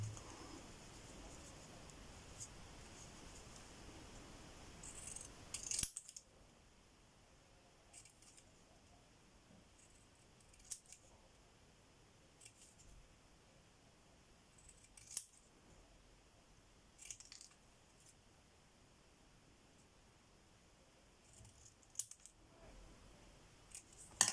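Scissors snip paper while a handmade friendship card is put together, giving a few faint, scattered cuts spaced several seconds apart in a quiet room.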